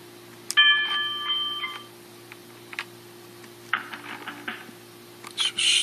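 Electronic ring from a Cisco IP desk phone, a single short warbling tone burst followed by scattered beeps and clicks, close and fairly quiet, no voices.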